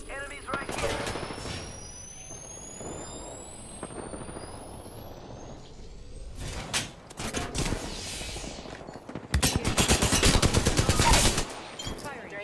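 Automatic weapon fire in the battle royale shooter Apex Legends: repeated rapid bursts of loud, close gunshots, with a long, dense volley near the end and quieter stretches between.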